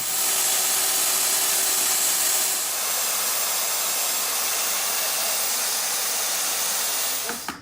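A power mixer churns floor levelling compound in a steady, loud, hissing whir that runs unbroken with no talking.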